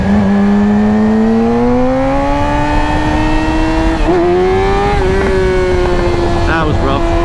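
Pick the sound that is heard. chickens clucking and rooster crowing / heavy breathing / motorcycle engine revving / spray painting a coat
motorcycle engine revving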